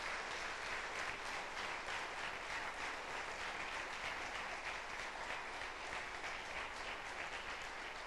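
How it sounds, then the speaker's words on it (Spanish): Steady applause from a congregation at a Sunday church meeting, an even wash of many hands clapping continuously for several seconds, soft and a little distant, with no voices over it. "Le damos un aplauso."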